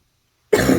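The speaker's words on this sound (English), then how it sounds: "There's a cough." A single sharp cough bursts out of silence halfway through, close and fairly loud, with a short rough tail; no talking.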